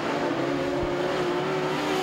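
Modified sedan race cars roar around Archerfield Speedway in a Queensland title B-Main, a dense, sustained engine drone with a rising harmonic whine, loud and continuous with no voices.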